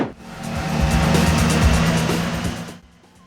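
A race car in Gran Turismo 2 roars at a steady high pitch for nearly three seconds, its engine note rising and falling slightly with a hint of tire squeal before cutting off abruptly.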